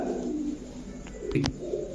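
Soft, low pigeon coos sound nearby over a steady background hum, with a brief burst of cooing near the end.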